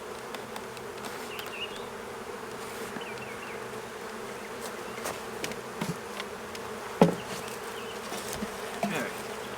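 Honey bees buzz around an open hive box during a spring box upgrade, a continuous droning hum with individual bees zipping past, plus occasional faint knocks.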